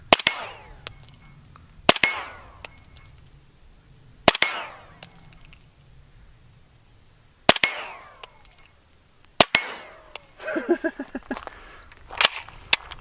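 .50 caliber heavy sniper rifle rounds striking a stainless steel plate outdoors, five sharp cracks each followed by a ringing metallic clang and decaying shimmer, spaced a few seconds apart, with a brief voice between the later shots.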